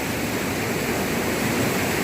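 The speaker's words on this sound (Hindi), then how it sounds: "यहाँ भी पानी जब नीचे उतरता है तो दूध हो जाता है।" Dense, steady roar of the Dhuandhar waterfall on the Narmada river, a continuous broadband rush of falling water with no other sounds.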